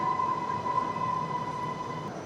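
An MRT metro train at a Kuala Lumpur station platform gives a steady rumbling roar with a sustained high whine, sounding close and continuous.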